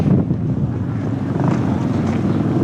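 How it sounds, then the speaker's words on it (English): Strong wind buffets the microphone at a MotoGP track, a loud continuous low rumble and roar with no letup throughout. "the wind is crazy today"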